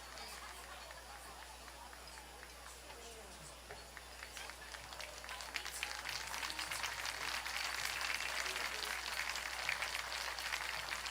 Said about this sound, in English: Thank you for your round of applause supporting injured player from Venice, number 30, Tristan Neely